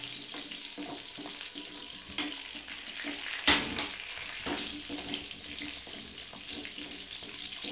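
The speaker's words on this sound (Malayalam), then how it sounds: "ഈ എണ്ണയൊക്കെ നമ്മളത് വറുത്തെടുക്കണം. തീ പാകം കത്തിച്ചിട്ട് ഒരു അഞ്ചാറ് മിനിറ്റ് വറുത്താലേ അത് വെന്ത് കിട്ടുള്ളൂ." Gooseberries fry in hot oil for a pickle, with a continuous crackling sizzle, scattered sputters and one sharp, loud pop partway through.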